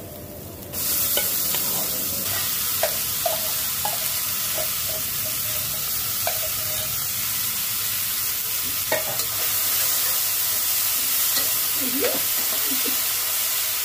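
Taro stolons sizzle steadily in a hot pan over lightly salted onions, a continuous close frying hiss broken by occasional clicks of a spoon stirring.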